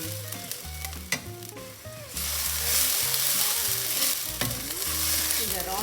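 Chili paste and chutney ingredients sizzling in a hot pan while being stirred, the frying growing louder partway through beneath a rhythmic music track.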